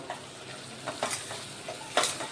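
Soft scraping and stirring of coriander-cumin powder in a pan over a gentle sizzle, with a few light strokes spaced irregularly, close and quiet with no talking.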